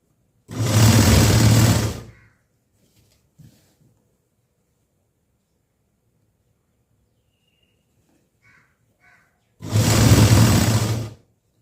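A sewing machine stitches a lining blouse in two short, loud runs of about a second and a half each, with a long quiet pause between them and no voices heard.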